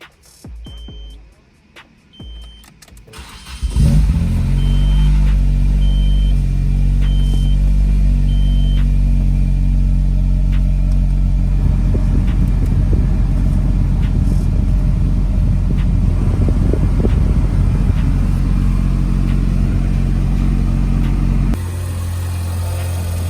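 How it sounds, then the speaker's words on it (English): A swapped Nissan SR20 engine starts up and idles steadily to bleed the cooling system, a loud, close mechanical rumble that holds level for most of the clip before dropping slightly near the end. "we're gonna turn it on, we're gonna turn the heater on full blast and let the engine run"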